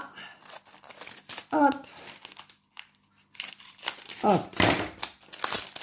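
Scissors snipping and crinkling material while a storage box is assembled, the crackly bursts coming in short spells between a woman's speech and a voice.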